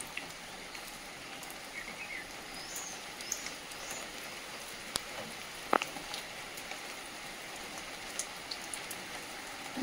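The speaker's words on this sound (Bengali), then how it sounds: "থামছে না বৃষ্টি" Steady heavy monsoon rain pours down without pause, a dense even hiss close at hand with scattered louder drops and a few sharp knocks on a surface.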